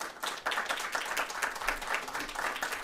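Audience applause greeting a speaker being introduced at a conservative-movement talk, a steady moderate patter of many hands clapping throughout, with no voices over it.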